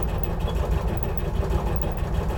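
An Intimidator UTV engine idles steadily close by, cold, a low, even rumble with a slight rhythmic pulse and no voices.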